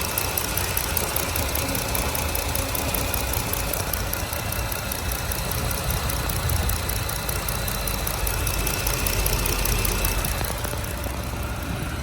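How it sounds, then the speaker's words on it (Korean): A 3.6-litre naturally aspirated gasoline engine in a Jeep pickup truck idles steadily, a continuous low rumble with a faint ticking texture and no pauses, close and even throughout. "3600cc 가솔린 자연업계 엔진이고요. 엔진 소음 한번 들어보겠습니다."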